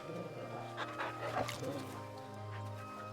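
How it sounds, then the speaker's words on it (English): A dog being petted in a video game gives soft panting, whimpers and small yips close by, faint beneath a steady background hum, with a voice murmuring briefly. "You can pet the dog."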